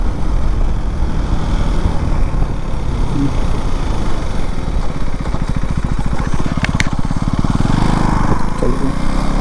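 A third-generation KTM Duke 390 motorcycle accelerates hard in first gear on a road, its engine loud and close, rising in a continuous rasping drone with rapid pulsing throughout.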